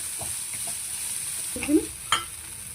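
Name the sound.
stirring flattened rice (poha) in a frying pan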